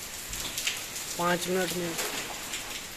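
Steady rain falls in Jammu after a gust of wind, a continuous hiss of drops on surfaces throughout, with a brief voice speaking over it midway.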